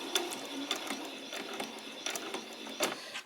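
A sewing machine runs a back stitch on a peasant top, giving quick, close, rhythmic mechanical clicking and ticking in even bursts with no talk.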